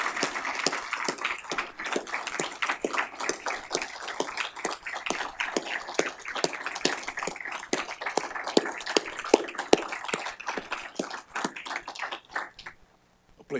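Sustained audience applause fills a ceremony dedicating the Big Red 200 supercomputer, dense steady clapping from a sizable crowd that carries on for over twelve seconds before stopping abruptly.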